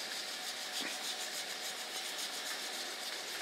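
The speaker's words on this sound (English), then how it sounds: "he's laid in bed doing his sharpening with his Lansky set" Knife blade drawn over a Lansky sharpening set stone at a camp: a soft, even scraping rasp, continuous and fairly faint, with light rhythmic strokes throughout.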